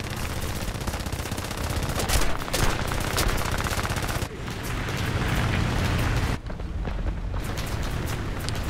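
Aircraft gunners in War Thunder air arcade fire machine guns in a loud, continuous, rapid rattle of gunfire that barely pauses for the whole stretch.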